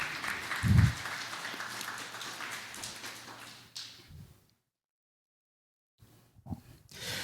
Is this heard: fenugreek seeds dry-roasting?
no